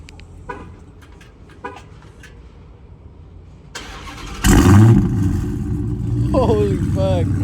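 A Dodge Hellcat Redeye with catless mid-pipes barks to life after quiet moments with a few faint voices, its engine abruptly loud and rumbling close by, holding a deep, raspy idle with a brief rev.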